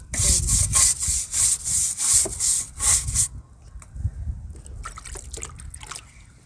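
A brush scrubs a clay pot clean with rhythmic, loud, close rasping strokes for a few seconds, then softer scattered scraping and light wet sounds follow.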